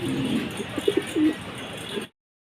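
Large fancy pigeons, including jet-black Mundian birds kept for sale, give a handful of soft, low coos in short bursts over a steady background hiss, with no talking.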